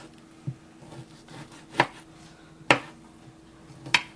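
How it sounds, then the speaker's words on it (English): A knife cuts food into thick slices on a board, giving four sharp, separate chops spaced about a second apart, close and fairly quiet, with no talking. "I'm just going to cut it in nice thick slices"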